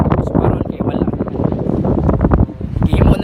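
Strong wind buffets the microphone at a pier in gusty, loud bursts, with a voice talking over it.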